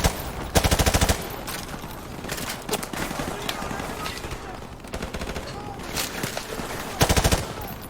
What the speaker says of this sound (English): Firing into that store.